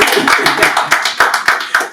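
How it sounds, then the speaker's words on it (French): An audience claps steadily at a Zouglou music event, with broadband bursts recurring roughly every quarter second, fairly loud and close, and faint voices mixed underneath. "Applaudissez-vous quand même."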